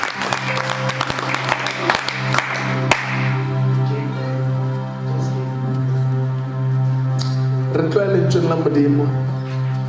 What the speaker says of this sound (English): Can we celebrate our sister by just clapping hands for her?